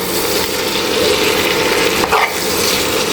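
Food frying in a pan, giving a loud, dense and steady sizzle close by, with a brief scrape or knock near the end and no speech.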